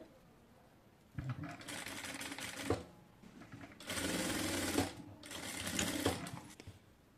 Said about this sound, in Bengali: তো এটিকেও হচ্ছে ঠিক সেমভাবে হচ্ছে সেলাই করতে হবে।